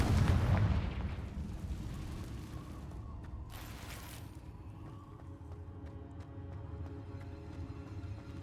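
A Confringo blast spell strikes in Hogwarts Legacy, a heavy booming explosion at the outset that rolls off into a sustained rumbling decay with a brief whooshing flare midway.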